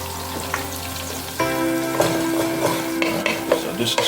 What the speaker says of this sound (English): so I add my garlic and my steak.